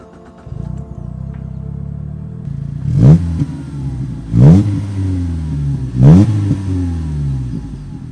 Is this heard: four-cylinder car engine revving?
yes